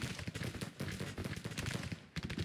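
Dense, crackling musket volleys from skirmishers in a Civil War battle in the Grand Tactician strategy game, a continuous rattle of overlapping shots with a brief lull near the end before the firing resumes.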